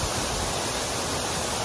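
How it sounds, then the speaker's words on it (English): A steady, dense roar of falling water at Diamond Falls, St Lucia, loud and unbroken, with no voices. "This waterfall"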